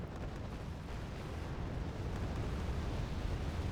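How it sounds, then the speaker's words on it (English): In the video game Wargame Red Dragon, bombs dropped from aircraft explode as a dense, continuous rumble of blasts, heavy and low, with no voices heard. "So we were bringing in our aircraft, just trying to bomb them to submission"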